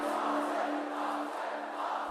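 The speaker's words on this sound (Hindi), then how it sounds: "डीप स्पेस की गरज की फ्रीक्वेंसी काफी कम होती है," Sonified deep-space rumble from colliding black holes: a steady, dense roar like a distant crowd that holds at an even level for about two seconds.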